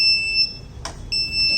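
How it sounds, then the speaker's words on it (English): The buzzer of a vehicle anti-collision system with sound alert gives a loud, steady electronic beep, pauses briefly, then sounds again. "The buzzer will be on and off 2 times"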